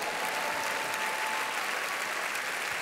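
A church congregation claps throughout at a sermon, a dense, continuous wash of applause with a faint steady tone underneath and no speech.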